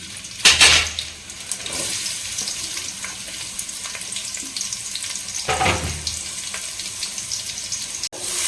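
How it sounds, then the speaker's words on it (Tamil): Onions dropped into hot oil for a goat head curry roast, bursting into a loud sizzle with two sharp hissing surges as pieces hit the pan, then a steady crackling fry with occasional utensil clinks. "ஆயில் வந்து நல்லா ஹீட் ஆகிட்டு இருக்கும்போது நம்ம வந்து வெங்காயத்தை சேர்த்துக்கலாம்"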